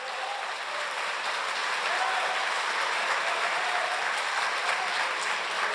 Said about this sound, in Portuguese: Um aplauso mais forte ao Senhor